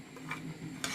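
Vegetables tipped into a pot with a spoon, giving a brief rustling clatter and a soft sizzle, then a sharper scrape or clink near the end, close and moderately quiet with no talk.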